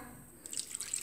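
Fresh water pours over cut chestnuts in a bowl, a short quiet trickle and splash that starts partway through and continues to the end.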